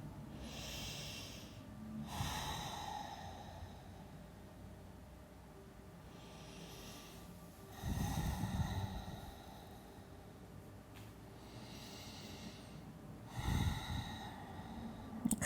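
Slow, deep breaths during a yoga stretch, with long airy exhales recurring every few seconds, close and steady over a faint background hum.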